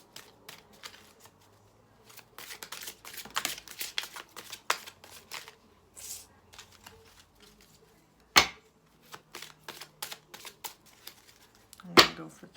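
Tarot-style oracle cards being shuffled and drawn, with repeated soft riffling and flicking bursts, a couple of sharper snaps standing out, close and fairly quiet with pauses between.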